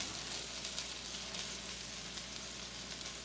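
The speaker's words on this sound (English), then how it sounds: "I'm going to let that just kind of sizzle away" Meatballs frying in a pan for Swedish meatballs, a steady, even sizzle close up with no talking.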